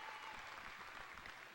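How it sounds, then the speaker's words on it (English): A crowd at a high school basketball game claps steadily in a brief, even burst of applause, heard from a distance in a large indoor gym. "gets a round of applause as he exits the game"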